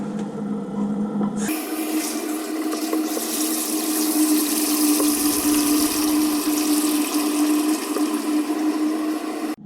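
Hot water from a household tank gushes into an electric Brewer's Edge mash and boil vessel used as a mash tun for home brewing, a loud steady rushing pour that starts abruptly and runs on.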